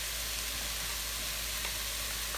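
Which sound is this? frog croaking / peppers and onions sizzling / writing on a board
peppers and onions sizzling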